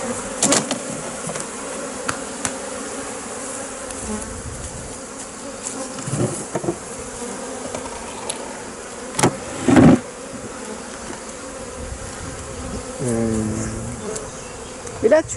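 Honeybees buzz steadily around two open, heavily populated hives while frames are being handled, a continuous close drone with occasional louder passes and brief knocks.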